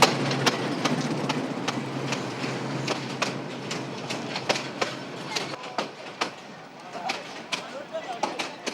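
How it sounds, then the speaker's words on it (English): A long-distance train in Burma arrives behind a French-built 1970s diesel locomotive, with a steady rumble under a run of sharp, regular clicks from wheels crossing rail joints that grow sparser as it slows. "A long-distance train now arrives behind a French-built diesel loco of the"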